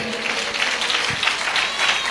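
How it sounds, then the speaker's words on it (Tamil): Congregation at a Tamil Christian church service claps on request, a brief, moderately loud burst of mixed hand clapping with no talk over it. "ஜோரா ஒரு கைத்தட்டு கொடுத்துருங்க"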